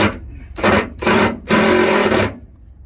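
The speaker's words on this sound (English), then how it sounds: "All I use is a regular driver right here, and then I put a 10 millimeter on there." A driver fitted with a 10 mm socket tightens the mounting of an external voltage regulator. Three loud, close whirring bursts are heard, and the last one runs longest before stopping.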